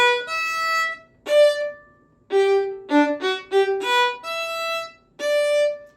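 Violin working through the third movement of Seitz's Concerto in G Major, short separated down and up bow staccato notes in small bursts with brief gaps between phrases, close and bright, no talking.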